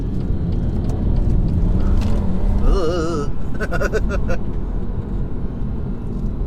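Tuned Stage 1 BMW M140i engine pulling hard in third gear from a driver's seat view, a loud steady drone with rising harmonic sweeps near the middle, partly under a man's speech.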